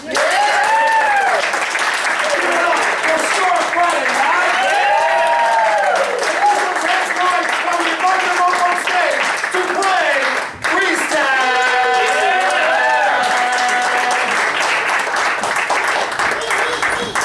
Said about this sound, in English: Give a big round of applause for the Tony Stanzas, please